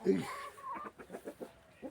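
Hens kept in a small greenhouse give a rapid run of soft, close clucks that begins with a louder squawk.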